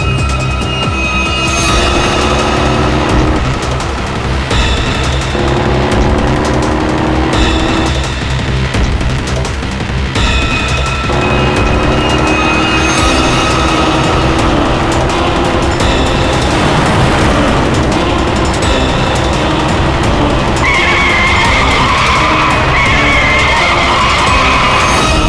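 A truck drives with loud continuous engine roar and tyre skidding throughout a busy, dense vehicle chase scene, the noise constant and close with no clear gaps.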